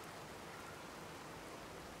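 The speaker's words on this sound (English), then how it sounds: "it's kind of raining inside my house too" Steady rain in the game Fallout 4, falling even inside a house: an even, dense hiss that runs unbroken and alone through the short stretch.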